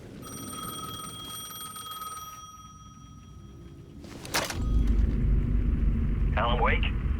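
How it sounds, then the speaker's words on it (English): Payphone ringing in the Alan Wake 2 video game, a steady bright bell-like trill for about two seconds that then stops, followed by a loud whoosh and rumbling game ambience. "The payphone was ringing again."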